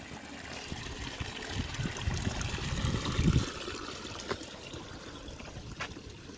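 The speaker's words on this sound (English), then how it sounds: "here we are at another creek crossing" Creek water flowing at a trail crossing, a steady broadband rush and trickle heard close by, swelling briefly midway, with no talk over it.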